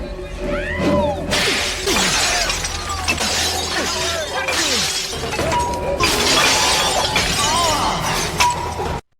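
Glass bottles shatter again and again in a street beating, each sharp crash spraying bright glassy tinkles, with whooshing swings and scuffling between them, loud and close over about nine seconds before it cuts out.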